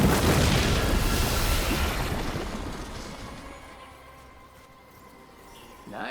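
A companion breathes fire onto banners on a beach in Dragon Age: The Veilguard, a loud rushing roar of flame that starts strong, then fades over several seconds into quieter game ambience, ending with a brief burst.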